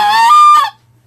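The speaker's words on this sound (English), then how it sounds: "if I wanted to move my tongue forward like I would to do a cluck on a goose call" A single short, honking cluck blown on a Triad Killer goose call, bright and reedy, lasting well under a second and stopping abruptly into quiet.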